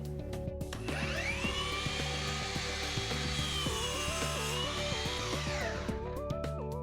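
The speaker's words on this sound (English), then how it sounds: "now let's practice making a miter cut. Say at 30 degrees." A miter saw with a new blade spins up and cuts a 30-degree miter through wood, giving a loud, sustained whine that bogs slightly in the cut and then winds down, close and with no talking.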